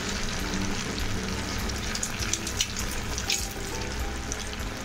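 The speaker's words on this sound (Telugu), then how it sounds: "మంచిగా వేగనివ్వాలి." Green gram vadas (pesara garelu) frying in hot oil give a steady, dense bubbling crackle that stays close and fairly loud throughout, with no voices over it.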